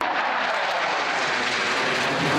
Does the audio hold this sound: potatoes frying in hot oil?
no